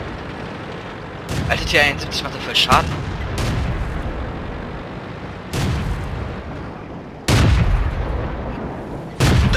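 Tank cannon shots and explosions in World of Tanks, heavy booming blasts at intervals, several loud bursts spread through the clip under someone speaking German.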